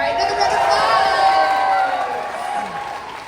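Cheering and applause ring out from the crowd at a Momocon 2025 cosplay contest, a loud continuous roar of voices and claps over the short span.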